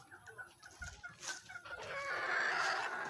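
Chickens clucking nearby in short repeated calls, with a louder, sustained squawk or crowing building toward the end over farmyard background noise.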